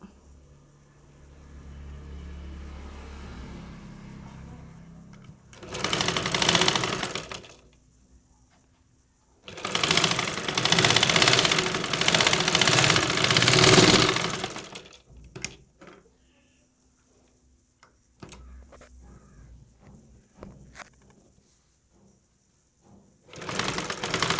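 Sewing machine stitching canvas neck piping, two loud bursts of fast mechanical whirring a few seconds apart, separated by quiet pauses with soft handling clicks.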